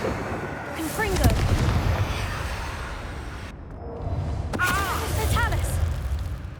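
Confringo fire spell blasting in the Hogwarts Legacy video game, with booming, crackling bursts over a rumbling battle and game voices calling out.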